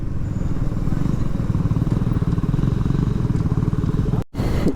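A Royal Enfield Scram motorcycle ridden on an open road, its engine loud and steady with a constant throbbing drone, wind buffeting over it, and a brief cut near the end.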